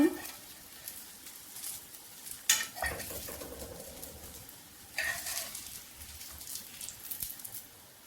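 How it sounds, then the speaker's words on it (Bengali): Eggplant frying in a pan of hot oil while the slices are turned, a soft steady sizzle broken by a few sharp scraping and clinking strokes of a utensil against the pan. "উল্টিয়ে পাল্টিয়ে বেগুন ভেজে নিয়েছি উঠিয়ে নেব"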